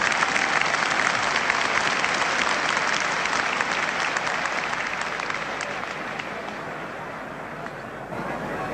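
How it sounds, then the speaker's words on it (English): Rugby stadium crowd at a 1973 Ireland versus New Zealand test match applauding loudly and steadily, a dense wash of clapping and cheering that eases slightly toward the end. "It's great to hear appreciation of the crowd"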